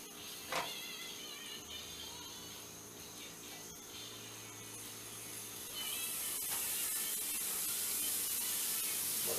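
Mayonnaise-coated grilled cheese sandwiches sizzle in a skillet, a soft continuous hiss that swells louder partway through, with low kitchen hum underneath and no talk.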